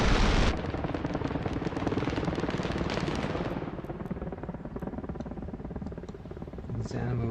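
Machine gun fire from a war video game rattles in a dense, rapid stream of shots that stays heavy at first, then thins into scattered bursts with a deep rumble underneath.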